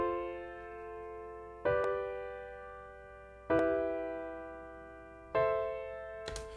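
Keyboard chords from a beginner music theory lesson, four sustained harmonic chords struck in steady succession about every two seconds, each ringing and decaying before the next, close and clear with no talking.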